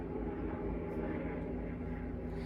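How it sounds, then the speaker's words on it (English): Steady low engine rumble of a helicopter flying overhead outside, continuous and fairly quiet, with no voices. "Let's wait for the helicopter outside to go away."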